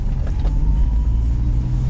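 A 1978 Volkswagen Passat LS engine running at a steady idle, giving a low, even rumble close by with faint mechanical ticking and no talking.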